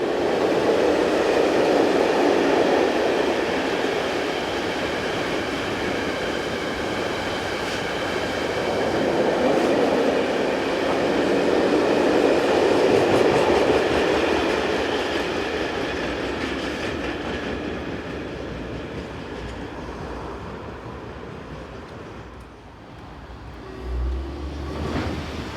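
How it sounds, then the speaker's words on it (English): A diesel locomotive hauling a loaded scrap freight train bound for a steelworks, a long continuous rumble of engine and rolling wagons with steady rail clatter, loud and close, fading slightly toward the end. "It is heading a loaded scrap train for the ArcelorMittal works at Belval"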